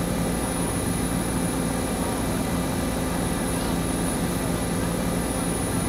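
Constant close helicopter engine and rotor drone at an air assault training drill, loud and unbroken throughout.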